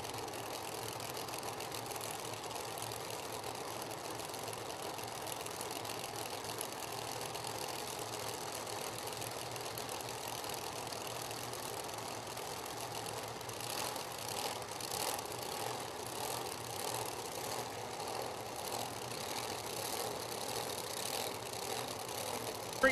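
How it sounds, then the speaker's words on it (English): Drag racing car engines at a street nationals racetrack give a steady, distant mechanical drone and rumble with no sharp peaks, slightly rising in the last third. "racing engines here on the left-hand side of the racetrack"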